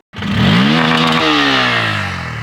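A 2024 Bajaj Pulsar N160 motorcycle engine starts up and revs hard, the pitch sweeping up and then easing back down in a loud, close, rising-and-falling roar with no talking.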